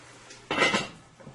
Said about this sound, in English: I am going to cover my pot